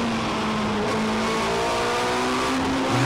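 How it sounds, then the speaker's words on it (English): A race car in a Sevens Challenge race at Kirkistown brakes hard, its tyres squealing as they lock up. A steady engine tone holds close and loud, with no talk over it. "Mark hard on the brakes, lighting up the tyres."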